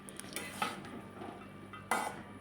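A spoon stirs fish-head chhyachra in a pot, making faint scraping and clinking with a sharper knock near the end over a quiet low simmer.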